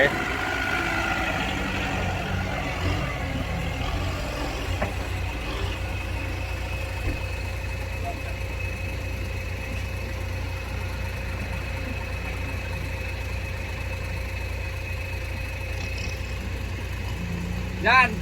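A tractor engine idles and runs steadily at a low, constant rumble throughout, with a faint whine above it.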